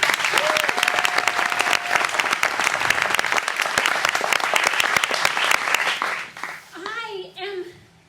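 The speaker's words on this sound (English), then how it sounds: "Please, big round of applause." An audience at a Pecha Kucha presentation night gives a presenter a loud, dense round of applause that fades out, followed by a voice beginning to speak.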